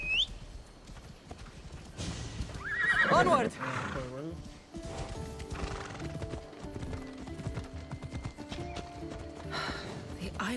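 Horse hooves clip-clop steadily at a ride in Assassin's Creed Odyssey, with a whinny rising partway through, all under continuous character dialogue and game ambience.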